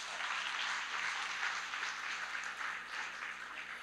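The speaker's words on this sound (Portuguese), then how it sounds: "Quero chamar também Caio Santoamore, palmas para ele também." Applause from an audience at an architecture session, a moderately quiet, continuous patter of clapping that holds level throughout with no talk on top.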